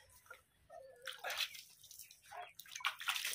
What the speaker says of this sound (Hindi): पानी को थोड़ा थोड़ा झिमका दीजिए हाथों से